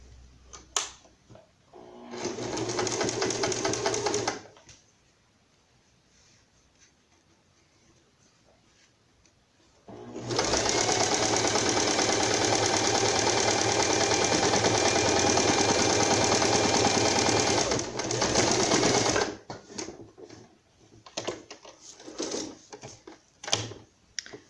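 Home sewing machine stitching a hem band on a raglan pet dress: two close runs of rapid mechanical whirring, a short burst then a longer steady stretch, separated by quiet pauses and followed by scattered handling clicks.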